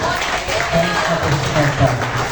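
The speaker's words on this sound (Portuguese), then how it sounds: "Exalte o Senhor com as palmas." Church congregation clapping in praise during a service, a brief, loud burst of many hands mixed with voices.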